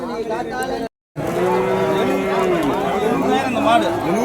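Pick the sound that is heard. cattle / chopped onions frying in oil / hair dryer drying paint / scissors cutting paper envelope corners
cattle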